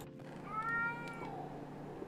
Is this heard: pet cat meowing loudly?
yes